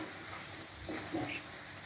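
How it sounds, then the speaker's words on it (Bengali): Vegetables, ridge gourd with onion-fried potatoes and green chili poppy seed paste, frying in a pan, a steady soft sizzle with a few brief stirring scrapes, close and fairly quiet. "একটু ভাজা ভাজা হবে"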